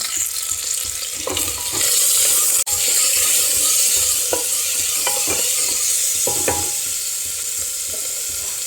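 Onions and curry leaves fry in a pan with a steady, close sizzle, while a spoon stirs and scrapes at irregular intervals with several sharp clicks; no one speaks.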